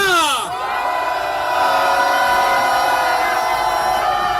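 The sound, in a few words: crowd shouting a rally cheer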